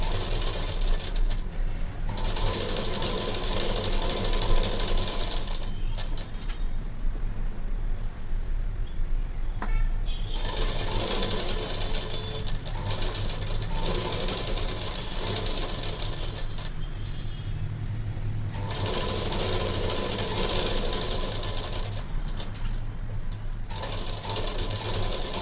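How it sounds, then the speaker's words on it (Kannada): An electric sewing machine stitches a blouse lining, running in long whirring bursts with short pauses between them, close and loud, with no talk over it. "ಈ ರೀತಿ ಫುಲ್ಲು ಸ್ಟಿಚ್ ಮಾಡ್ಕೊಂಬಿಡಿ"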